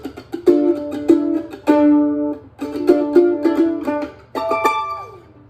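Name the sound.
mandolin chord in fourths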